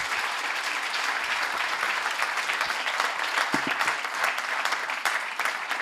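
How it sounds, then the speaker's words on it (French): Sustained applause from a conference audience thanking four speakers, a dense, steady wash of clapping at moderate level lasting throughout without a break. "vous pouvez les applaudir"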